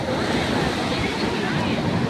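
Strong sea waves surge at Mahabalipuram beach in the evening: a loud, steady broadband roar of churning surf fills the whole stretch without pause, close to the listener.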